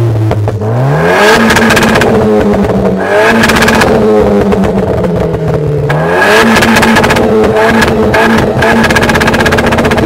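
A Renault Clio 4 RS engine accelerates and revs hard, rising in repeated loud sweeping pulls with brief dips between gear changes, close and dominant with no voices.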